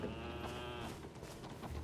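A sheep in a video game gives a drawn-out, wavering bleat that dominates the short moment, followed by quieter rustling. No voices.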